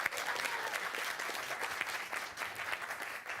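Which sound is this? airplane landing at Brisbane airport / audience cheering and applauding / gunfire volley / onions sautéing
audience cheering and applauding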